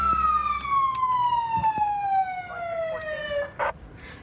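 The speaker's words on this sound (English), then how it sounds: "It's got a siren on." A police car siren wails close by in a single long downward sweep, its tone falling steadily over several seconds, with a few clicks and knocks around it and no talk.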